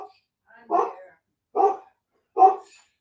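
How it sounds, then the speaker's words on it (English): A dog barks three times in a steady, evenly spaced rhythm, each bark short and clear against a quiet background with no other sounds. "dog's barking. We got company."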